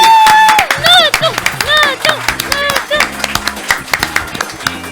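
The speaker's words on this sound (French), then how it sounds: "applaudissements pour Nathan, s'il vous plaît." Audience at a French student contestant competition gives scattered, uneven claps and taps beneath a loud speaking voice that dominates throughout.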